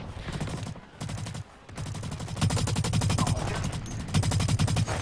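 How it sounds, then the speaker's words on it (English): Rapid bursts of automatic gunfire rattle loudly in a video game, with short pauses between the volleys and no talking over them. "I hear some gunfire."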